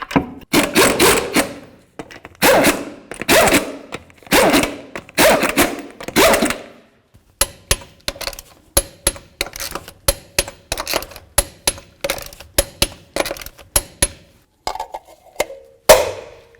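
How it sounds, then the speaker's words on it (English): Lug nuts go back onto the front wheel of a 2007-2017 Ford Expedition: a first run of rapid ratcheting bursts, then a long string of sharp, evenly spaced clicks as a torque wrench tightens them to 150 foot-pounds. "Start all of your lug nuts, snug them up, and torque them to 150 foot-pounds."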